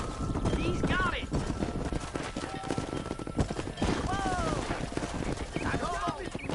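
Horse hooves clip-clop at a steady riding pace along a road in Red Dead Redemption, with occasional whinnies, all under ongoing talk.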